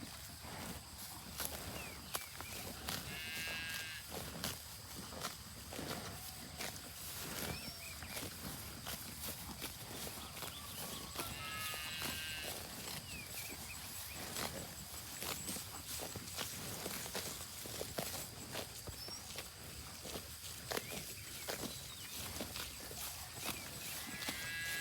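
Cattle on a farm shift and move about, with scattered hoof steps and shuffling at moderate distance over a busy outdoor background; a few brief calls rise now and then, and no one speaks.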